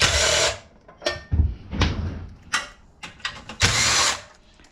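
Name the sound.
power tool drilling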